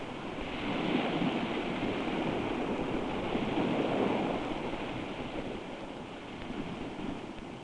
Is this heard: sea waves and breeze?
yes